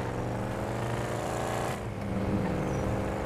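A car in GTA 5 driving fast through Los Angeles streets, its engine a loud steady roar with a slight shift in tone midway, continuous throughout.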